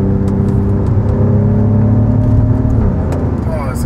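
An Alfa Romeo Giulia Quadrifoglio with 510 horsepower accelerates hard, its exhaust roaring loudly from inside the cabin, engine tone climbing steadily with tyre and road noise, while a voice talks over it.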